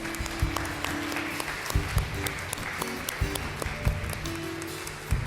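A church congregation at a Sunday celebration claps for all the fathers, soft scattered clapping under a murmuring room with sharp thumps and clattering knocks rising through it.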